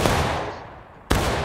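Gunfire in the Civil War shooter War of Rights: the tail of one loud blast decays away, then a second sharp, close report cracks out near the end.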